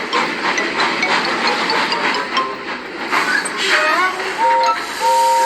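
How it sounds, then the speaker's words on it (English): A ghost train rumbles past at night in a Thomas & Friends story, a continuous loud roar of wheels and rolling stock with rhythmic clanks and a few tonal whistle-like hoots near the end. "Oh, Gordon, I just saw a ghost train."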